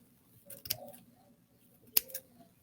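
Scissors cut moss or craft material for a DIY floating teacup waterfall. There are two sharp, close snips about a second apart, each with a slight rustle, in a quiet room.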